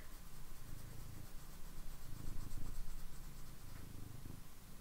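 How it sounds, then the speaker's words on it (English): A cat purring steadily and softly, heard from some distance, a low continuous rumble with a gentle rhythmic pulse under faint background hiss; no talking. "she's purring like crazy."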